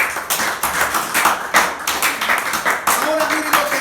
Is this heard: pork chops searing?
no